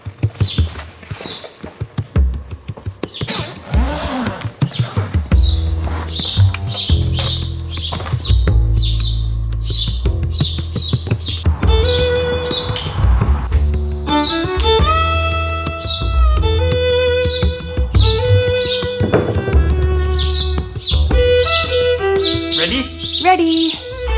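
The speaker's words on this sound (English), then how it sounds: "there's the birds singing relentlessly" Birds sing persistently around a wooden boat-building workshop, bright chirps and tweets repeating throughout, mixed with occasional knocks and workshop noise.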